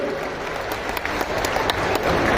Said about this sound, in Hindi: जोरदार ताली बजाए अपने भाई बहनों के लिए।